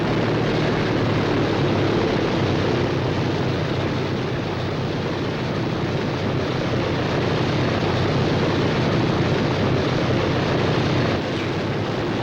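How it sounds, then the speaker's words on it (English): Propeller engines of World War II bombers taxiing out to the runway, a dense, steady droning roar that stays loud and constant with no talk. "Planes taxied out to the runways, it was always uncertain how many would return."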